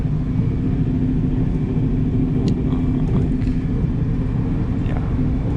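Inside the Puyuma Express train en route to Tainan, a steady low rumble of the moving carriage fills the space, continuous and fairly loud, with faint clicks and rattles on top.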